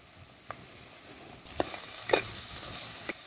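Curry with turmeric and spices being stirred in a pan, a quiet frying sizzle underneath with a few sharp scrapes and clinks of the ladle against the metal, no talking.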